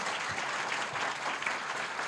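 Applause from a seminar audience at a business meeting, a steady wash of many hands clapping at moderate volume, continuous throughout with no speech over it.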